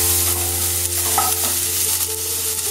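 Tomatoes sizzling in a hot pan during preparation of green banana kopta, a steady crackling fry with light stirring scrapes and a constant low hum beneath, no voices.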